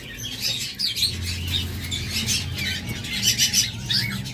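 A pair of albino Fischer's lovebirds calls nearby in quick, shrill chirps and squawks, overlapping in busy bursts over a low background rumble.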